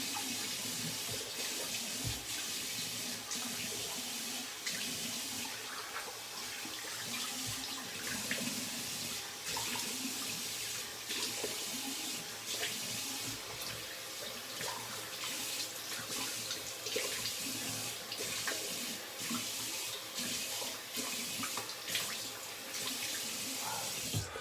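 Tap water runs steadily into a sink while a shaving bowl is rinsed, a continuous close splashing stream with small clatters and no talk.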